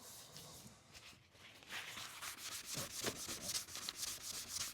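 Soft sanding pads rubbing across a plastic car headlight lens during a DIY restoration, a steady scratchy friction that grows louder and more rhythmic partway through, close up with no talking.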